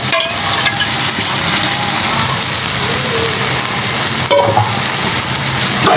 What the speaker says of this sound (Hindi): कढ़ाई को अच्छी तरह से भून लेंगे हम अपनी